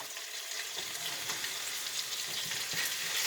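Meatballs searing in a hot pan, a steady loud hiss of sizzling fat with occasional crackles and soft spatters, continuous and close, with no talking.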